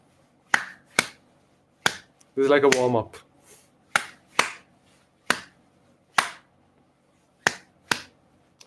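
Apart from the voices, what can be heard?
audience clapping along to a rhythm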